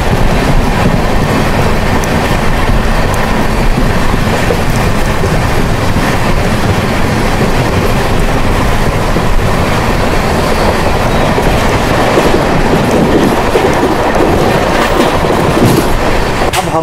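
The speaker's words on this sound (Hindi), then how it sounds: "ट्रेन जो है वो कंटिन्यूस 130 की रफ्तार में चल रही है" Sampark Kranti Express running at 130 km/h, a loud constant roar of wheels and rushing air with dense clickety-clack rattling heard from inside the moving train.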